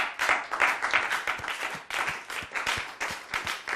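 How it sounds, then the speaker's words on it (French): Church congregation applauding during a worship service, a steady, dense wash of many hands clapping that carries on throughout with small surges in intensity. "Acclamons Jésus"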